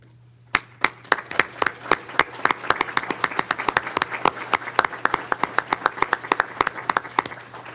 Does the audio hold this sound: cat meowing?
no